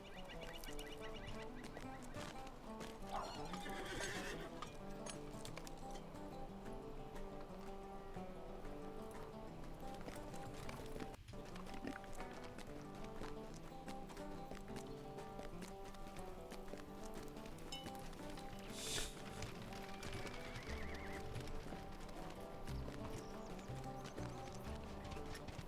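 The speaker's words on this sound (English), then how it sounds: "I've got my horse. Come on, get on my horse." Horse hooves clip-clop steadily in a fantasy video game over a constant bed of in-game music and ambience, with a brief higher call partway through; the sound is quiet overall.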